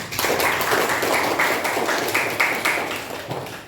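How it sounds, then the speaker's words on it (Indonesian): Audience in a classroom clapping after a group presentation, a moderate burst of hand claps that continues steadily and slightly thins toward the end. "Beri tepuk tangan."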